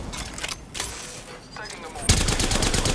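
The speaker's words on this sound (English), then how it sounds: "I am taking fire." Enemy gunfire in the video game Apex Legends, scattered shots at first and then a louder, denser volley near the end, with game voices talking in the mix.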